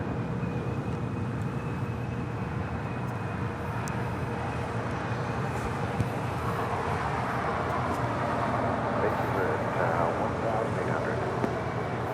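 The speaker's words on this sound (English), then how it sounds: "the next A380 Super," Airbus A380 airliner on short final to runway 24R at Los Angeles International Airport, a steady broad engine roar and rumble holding throughout at moderate distance, swelling slightly toward the end.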